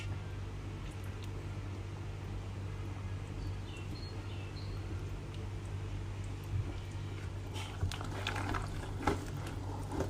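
A seafood stew of crab, lobster and langoustines simmers steadily in a pot, giving a low continuous bubbling hum with faint liquid pops and a few louder splashes near the end, no talking.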